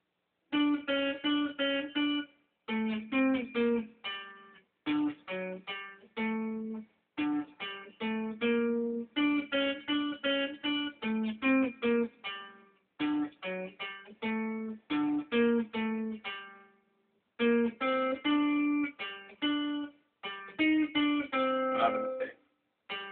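Guitar playing Für Elise, a long run of plucked single notes in phrases with short pauses between them, clear and close with no talking.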